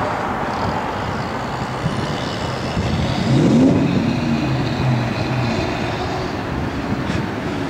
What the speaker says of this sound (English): Chrome tips, dual exhaust.